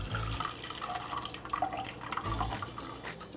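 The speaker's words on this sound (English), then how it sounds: "it's time for us to quickly strain this water" Hot water that corn cobs were boiled in is poured through a strainer, giving a steady, soft trickling and splashing with faint drips, close by and fairly quiet, with no talking.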